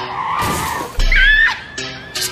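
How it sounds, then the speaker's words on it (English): A car skids with a screeching tire squeal in a music video, the burst loud and close, followed by a heavy impact, all mixed with music. "I thought it was a car crash"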